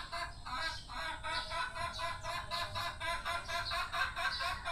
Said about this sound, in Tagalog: Ingay na manok.